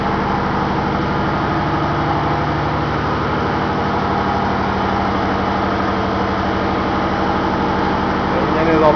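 Ship engine running steadily in an engine room, a loud continuous low drone with mechanical hum and rhythmic throb, constant throughout with no breaks.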